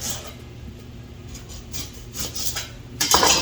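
A kitchen knife slicing through a broccoli stem on a cutting board, soft repeated cuts under a steady background hum, ending in a louder chop.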